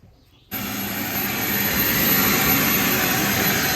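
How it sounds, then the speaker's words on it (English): A vacuum cleaner switches on abruptly after a brief quiet moment and runs as a loud, steady roar, cleaning up after an incinerating toilet install at an off-grid cabin. "Look at this guy even vacuuming up after the install."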